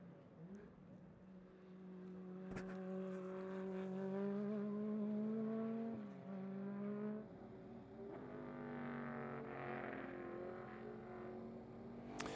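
Time Attack AMG race car pulling out onto the track at Velocity Invitational 2024, its engine droning close and loud with steady harmonic tones that shift in pitch, a sharp crack near the start and faint voices underneath.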